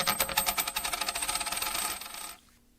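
Livestream donation alert chime: a quick, loud run of rapid metallic clinks like a shower of coins, fading out after about two seconds.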